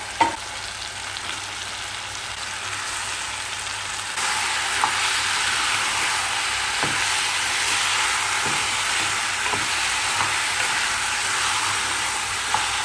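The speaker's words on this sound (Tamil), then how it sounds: "சிக்கன் சேர்த்து வதக்கிடலாம்." Country chicken sizzles steadily in a hot pan, a constant frying hiss that grows louder partway through. Occasional soft stirring clicks sound under it.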